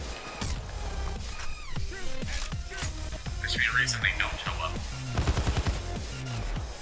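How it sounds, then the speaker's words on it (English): Bursts of SCAR rifle gunfire in PAYDAY 2 crackle under steady talking, with quicker rattling volleys toward the middle and end. "Probably heard the gunfire too"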